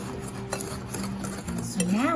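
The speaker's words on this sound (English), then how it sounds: "we're going to mix this all together until it's nice, well, and combined" Spoon stirring pumpkin spice muffin batter in a bowl, mixing the ingredients together: a steady, close scraping and swishing with faint clinks against the bowl, a brief tonal squeak near the end.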